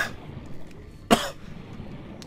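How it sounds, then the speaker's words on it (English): A single sharp cough bursts out over a quiet, low background hum. "Apologize for the coughing again."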